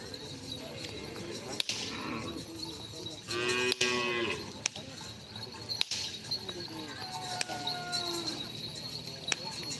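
Cattle moo loudly at a karapan sapi bull race in Pamekasan, with a long, close bellow near the middle and further calls over a busy crowd backdrop, plus sharp snaps that may be whip cracks.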